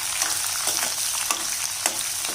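Curry leaves and crushed asafoetida frying in hot oil in a pan, a busy continuous sizzle with crackling pops, close and loud with no voices.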